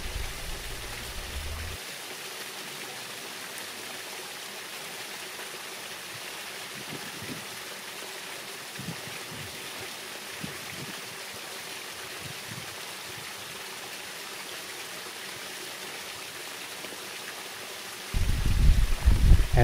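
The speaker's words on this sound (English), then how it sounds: "Over there is a water fountain that you can enjoy" A water fountain splashes with a steady, continuous hiss of falling water, heard alone and unchanging for most of the stretch. A louder low rumble enters right at the end.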